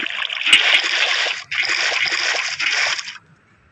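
Water splashes and sloshes in the video game Minecraft, a loud hissing, close stream that briefly cuts out, resumes, then fades away near the end.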